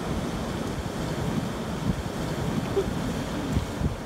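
Strong wind buffets the microphone as waves roll onto a shore at night, a steady loud roar with surges of surf and no voices.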